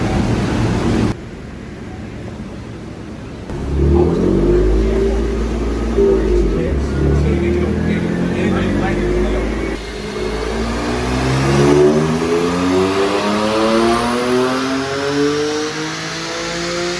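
BMW M4 GTS on an all-wheel-drive dyno, its engine note climbing in long sweeping pulls, dropping and rising again, loud and close with a steady roar between the runs.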